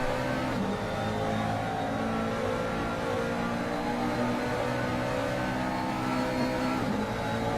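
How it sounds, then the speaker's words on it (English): GT3 race cars at Mugello in a racing video game hold a continuous high engine whine, with several cars droning together at steady volume and no break across the stretch. "McLaren going a little wide, going to try and grab the slipstream off the Ferrari."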